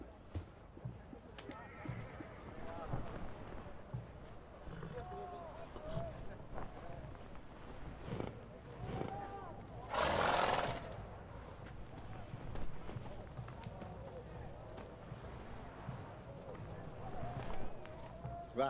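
Roach, Geralt's horse in The Witcher 3, gallops with steady clip-clop hoofbeats running throughout, mixed with game ambience and a burst of noise near the middle, while a voice talks over parts of it.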